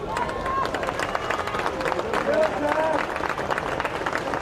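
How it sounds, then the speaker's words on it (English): Lancer fans at a boys high school soccer game, Livingston vs Seton Hall Prep, give a steady round of scattered clapping from the stands while a commentator talks over it. "obviously getting an applause from the Lancer fans"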